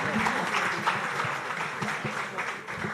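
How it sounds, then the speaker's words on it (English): Audience applause, a sustained patter of clapping with voices mixed in, fairly close and steady throughout. "You have to sustain the applause till she gets off stage."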